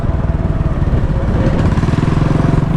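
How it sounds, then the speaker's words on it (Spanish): Motorcycles ride through a street where nearly everyone travels by bike, a loud, close, continuous engine drone with a pulsing mid-range chug and no talk over it. "Pero veis, todo el mundo va en moto."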